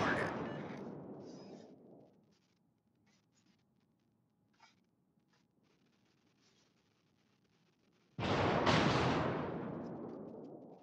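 Naval artillery fires in World of Warships during a clan battle, two loud booming salvos that each decay slowly, one at the start and one later, with faint clicks and a quiet stretch between.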